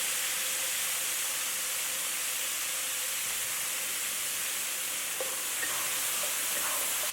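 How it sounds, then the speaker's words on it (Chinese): Water tipped into a wok of stir-fried red pepper strips with beef paste and garlic, giving a steady hiss and sizzle that runs continuously at close range with faint stirring clicks near the end. "倒入小半碗的清水"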